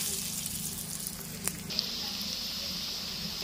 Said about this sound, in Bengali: তেলটা গরম হলে ভেজে নেবো এক এক করে